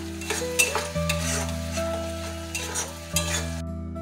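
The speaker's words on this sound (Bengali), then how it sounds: "এবার আমি মশলাটাকে ভালো করে কষাতে থাকবো যতক্ষণ না মশলার মধ্যে তেলটা ছাড়ে" Spice masala with Kashmiri chili powder frying in oil while being stirred, a steady close sizzle broken by scraping stir strokes and light clinks, cutting off abruptly at the end.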